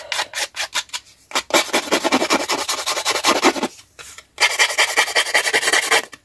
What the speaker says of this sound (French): Je viens limer mes petits bords.